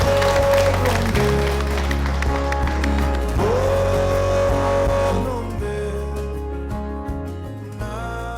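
A studio audience applauds to welcome a musician guest onto a television talk-show set, the clapping mixed under loud, steady music with a heavy beat.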